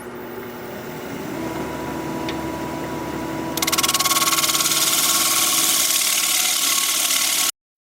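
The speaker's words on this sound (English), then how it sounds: "we're going to be turning at 1100 RPM with tailstock support for a little while" A wood lathe spins a four-legged square bowl blank at 1100 RPM with tailstock support, giving a steady close mechanical hum. About halfway through, a louder, brighter rattling whir sets in and runs until it cuts off abruptly near the end.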